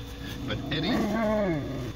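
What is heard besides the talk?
dogs in a radio drama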